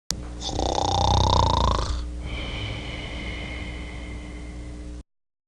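People imitate loud snoring, a harsh rasping snore for about two seconds followed by a softer, wheezy breath, close and unaccompanied.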